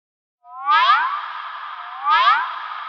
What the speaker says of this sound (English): when I put the feedback up too high, it already just started self-oscillating